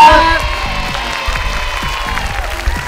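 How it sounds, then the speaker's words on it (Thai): A studio audience claps and cheers for Jennie at the close of a Thai school-bus variety show, a steady wash of applause with whoops under a host's voice and a rhythmic musical beat. "ขอเสียงปรบมือให้เจนนี่หน่อยครับ"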